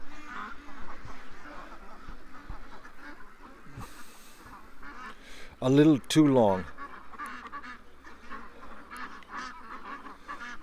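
Ducks being shut in for the night give a short burst of loud, close honking quacks midway, while a person talks over the rustling before and after.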